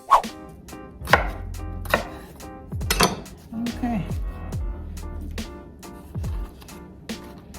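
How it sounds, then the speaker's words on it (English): Potatoes being cut with a knife on a board, a string of crisp, close chops at an uneven pace with a few louder knocks in between. "I'm gonna finish cutting up the other potatoes"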